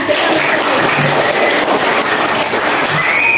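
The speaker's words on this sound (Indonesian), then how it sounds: "Dan tepuk tangan semuanya." A classroom of students applauding together, dense loud clapping that stays steady and continuous from start to finish, close and without voices.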